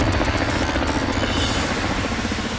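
A naval helicopter's rotor chops rapidly and steadily over a loud engine whine, close and continuous.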